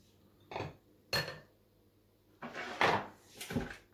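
A whisk knocks and scrapes against a bowl while beating cake batter with melted butter and milk, giving four separate clinking strokes, fairly faint and close, with no voices.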